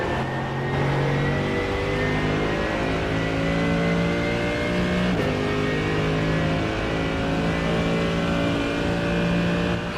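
A race car engine in a sim racing game howls under full throttle, pitch climbing steadily through the gears with brief shift drops, loud and continuous throughout.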